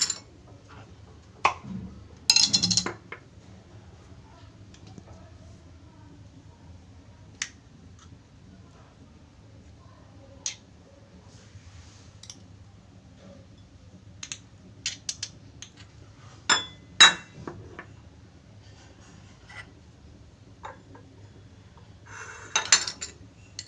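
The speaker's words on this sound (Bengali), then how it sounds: "এই যে আমি এখন সব মিক্স করে দিচ্ছি।" Ingredients for eggplant bharta being mixed in a bowl, heard as sparse, faint clicks and taps of a utensil against the dish, separated by long quiet stretches with a few brief clusters of louder knocks.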